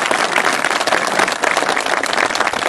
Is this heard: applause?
yes